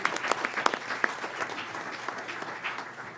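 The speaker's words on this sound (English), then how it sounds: "Can we have one more round of applause for all these amazing students and staff?" An audience at a school board meeting gives a full, sustained round of applause for students and staff, many hands clapping densely and steadily before slowly tapering off.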